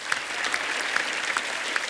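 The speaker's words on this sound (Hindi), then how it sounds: "एक बार जोरदार तालियां हो जाएं।" A studio audience at a television comedy show breaks into loud, dense applause. The clapping stays steady and close for a couple of seconds, with faint crowd noise beneath it.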